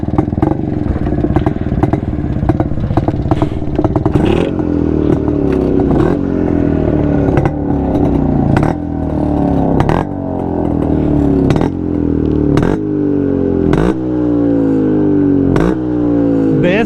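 Two-stroke engines of a Jawa and a Yezdi Roadking motorcycle rev repeatedly up close, loud throbbing idle rising into sharp throttle blips and falling again in a steady cycle, with faint voices in the background.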